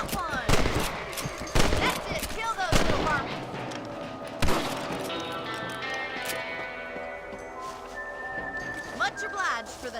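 Rifle gunfire in the Red Dead Redemption video game on Nintendo Switch, several sharp shots spaced across the scene with horse hooves and voices talking between them.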